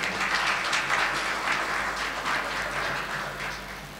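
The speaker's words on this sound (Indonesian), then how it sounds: "Tepuk tangan untuk beliau." An audience at an Islamic institute gathering applauds warmly, a continuous roomy wash of many hands clapping that gradually softens toward the end, with no talk.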